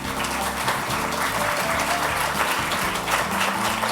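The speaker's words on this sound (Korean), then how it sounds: "다시 한번 많은 박수 부탁드립니다." Sustained applause fills the hall at the 12th Byeoksan Art Award ceremony, many hands clapping together evenly and fairly near, without pause for several seconds.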